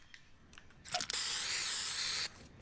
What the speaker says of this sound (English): let me see if I can spray paint you.